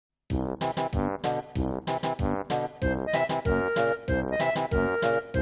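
Bright synthesized Nintendo 64 game music with punchy, clipped chords and a melody line, playing steadily and loud with brief gaps between phrases.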